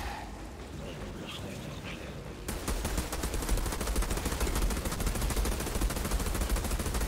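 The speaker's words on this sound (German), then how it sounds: "Wir ballern das Magazin jetzt weg" Video-game gunfire in Outriders bursts in after a quiet stretch and rattles on as rapid, continuous automatic fire, emptying a magazine loudly to the end.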